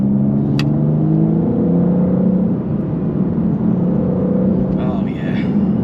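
A BMW M4 CS engine revs while driving on the road, a steady loud rumbling drone with slight rises, heard from inside the car with a voice talking over it.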